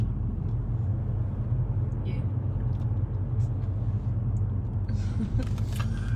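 A car driving along a road past holiday light displays on New Year's Day, a steady close engine and tire rumble running throughout with faint scattered clicks and rattles above it.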